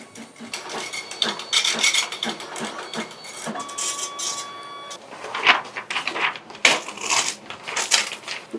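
A computer-controlled laser cloth cutting machine at work on fabric, with irregular mechanical clicking, whirring and ratchet-like bursts, close and moderately loud with brief tonal beeps.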